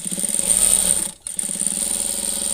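A sewing machine runs stitching a kantha quilt being turned around its four sides, giving a steady, close mechanical chatter with a brief pause near the middle before it resumes.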